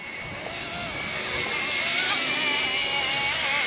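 An RC ERA UH-1 model helicopter flies flat out into the wind, its small electric motor and rotor giving a loud, steady high-pitched whine that swells slightly as it passes close by.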